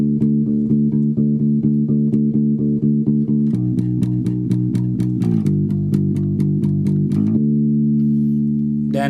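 A bass guitar for a song's chorus drives steady straight eighth notes, with crisp, evenly spaced plucks shifting pitch midway and settling into a held note at the end.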